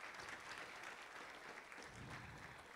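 Audience applause fills a school band and choir spring concert in the Belleville school district: dense, steady clapping from a large crowd that holds at an even level throughout.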